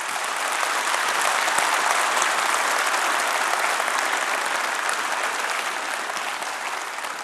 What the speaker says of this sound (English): please give them a bit of applause for this.